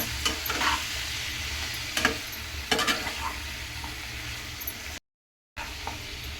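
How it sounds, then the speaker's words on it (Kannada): Salted chicken simmers in a pan for a chicken fry while a spoon stirs through it, giving a steady bubbling sizzle with a few louder scraping strokes near the start and a brief cutout near the end. "ಉಪ್ಪು ಹಾಕ್ಬಿಟ್ಟು ನಾವು ಸ್ವಲ್ಪ ಇದನ್ನು ತಿರುಗಿಬಿಟ್ಟು ಒಂದು ಎರಡು ನಿಮಿಷ ಕುದಿಯೋಕ್ಕೆ"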